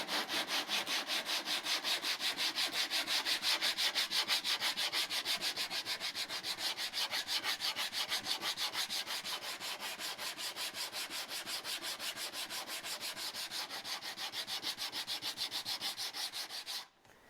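Sandpaper wrapped on a sanding block rasps back and forth across wood by hand in steady, rapid strokes, close and loud for the whole stretch, with no talking.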